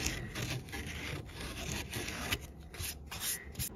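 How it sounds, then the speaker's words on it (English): Wood being hand-sanded on a homemade blanket ladder makes close, rhythmic rasping strokes that rub back and forth without pause. "Doing a quick sand in here."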